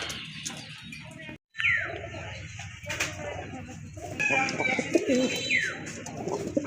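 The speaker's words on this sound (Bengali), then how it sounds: "খুবই সুন্দর চমৎকার কোয়ালিটি ফুল এক জোড়া কবুতর" Pigeons coo and rumble close by amid clucking fowl, with a soft hum of background noise throughout.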